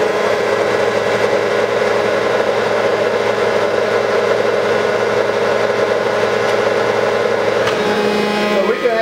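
Hydrostatic transmission training machine driving forward on a flat surface, a steady, continuous mechanical hum and whine that shifts slightly near the end.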